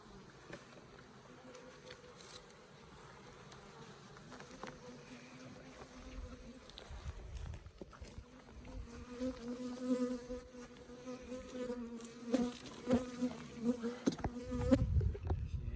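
Honeybees buzz around an open hive, a dense droning hum that builds steadily louder over the clip as more bees fly close by.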